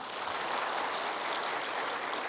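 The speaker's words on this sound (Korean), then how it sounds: "박수 한번 해요" Church congregation applauding during a Korean Sunday service, a dense, continuous roar of many hands clapping at even loudness throughout, full and close with no talk over it.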